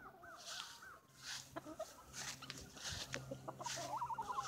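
Hens cluck and chatter softly in short, scattered bursts, fairly faint, with light rustling and farmyard background noise.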